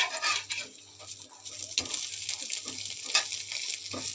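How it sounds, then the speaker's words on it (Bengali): An egg frying in a pan gives a soft, steady sizzle at close range. Scattered clinks and scrapes of a utensil or pan come through it now and then, and there is a low hum underneath. "এই যে ডিমটা ভেজে দিচ্ছি ডিম ভেজে রান্না করতেছি"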